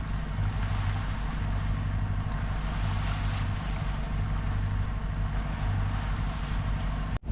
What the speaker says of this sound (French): les ferries qui font la ligne Santa Teresa di Gallura Bonifacio